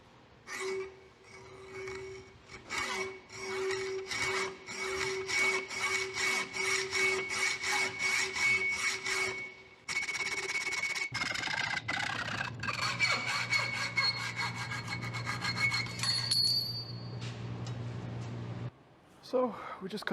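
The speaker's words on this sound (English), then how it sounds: "So we just cut this thing to length. Let's get this hacksaw out of here." A hacksaw cuts a metal s'more poker rod to length, with rapid rhythmic back-and-forth strokes up close, a brief pause, then a grinding, scraping stretch of cutting that ends with a few final strokes.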